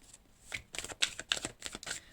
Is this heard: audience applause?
no